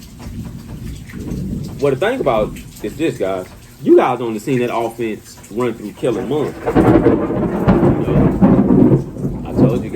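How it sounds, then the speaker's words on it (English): Thunder rumbles and rain falls steadily during an outdoor storm, the low rumble loud and close, the rain swelling into a broad wash in the second half; someone talks over the storm throughout. "Excuse that thunder, man."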